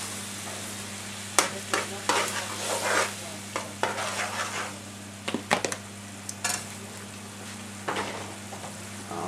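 A karahi sauce base simmers and sizzles in a pan while a utensil stirs and scrapes in irregular bursts, close and moderately loud, over a steady low hum.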